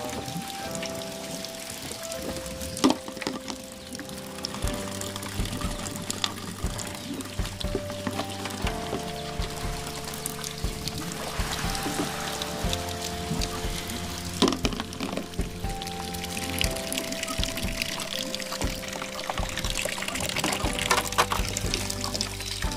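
Dishes washed in a basin of water give continuous splashing, pouring and trickling sounds, with music playing underneath.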